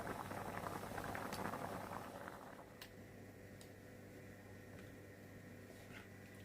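A Thai spicy pork curry with eggplant and basil bubbles softly in a pot, the quiet simmer busiest at first and then settling into a faint murmur with occasional small ticks.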